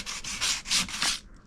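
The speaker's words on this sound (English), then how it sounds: "I got some 180 grit here, and I'm just running it around there, scuffing it all up, taking off all the loose paint" Close, brisk hand sanding with 180 grit sandpaper scuffs loose old paint off a race car body panel, five or six rhythmic rasping strokes in quick succession before stopping.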